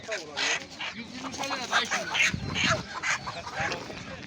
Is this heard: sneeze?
no